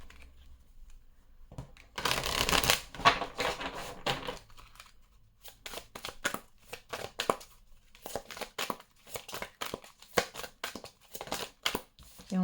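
Oracle du Voyageur Sacré cards being shuffled by hand, a dense burst of riffling followed by repeated short, crisp card slaps and flicks, close and fairly quiet.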